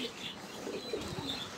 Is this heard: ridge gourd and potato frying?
no